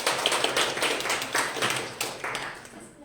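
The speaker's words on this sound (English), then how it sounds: "Our next speaker, with a round of applause, Franz Limeta" Applause from an audience at a speech contest in a club, a fairly small crowd clapping in a dense, steady patter that tapers off toward the end, with no talking.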